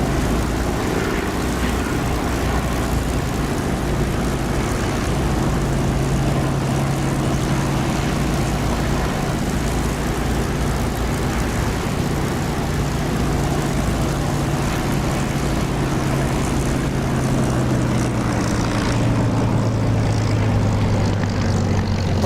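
A propeller aircraft in the DCS flight simulator drones steadily through its landing approach with the gear down, the engine hum continuous and close, with the pitch shifting slightly toward the end.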